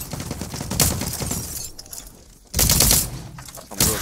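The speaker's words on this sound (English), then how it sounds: "Are you shooting a shotgun at somebody?" Shotgun blasts ring out in the shooter The Cycle: Frontier, two or three loud, sharp bursts with a quieter pause between them, over a steady layer of background noise.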